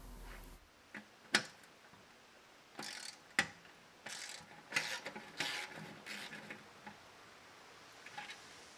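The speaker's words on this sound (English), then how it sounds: "you're going to remove this bolt and also this one using the socket and extension" Socket wrench with an extension loosening the burner bolts on a Weber Q gas grill, giving a series of sharp ratcheting clicks and metallic ticks in short irregular bursts, close and moderately loud, with no talking.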